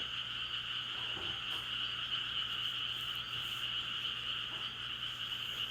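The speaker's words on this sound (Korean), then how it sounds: "개구리 소리가 너무 많이 들려서" Dense chorus of frogs croaking steadily at night outside a countryside house on a quiet mountain ridge, a continuous layered trill with faint insect chirps, no voices.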